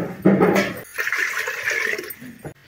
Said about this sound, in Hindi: प्रेशर कुकर में हम डाल देते हैं पानी।